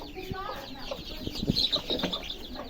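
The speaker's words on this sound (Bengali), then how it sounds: "এখানে মুরগি, ছোট ছোট মুরগি আছে" Small chickens cluck in short, uneven bursts close by, with some background voices and rustling mixed in.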